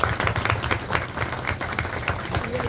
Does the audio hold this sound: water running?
no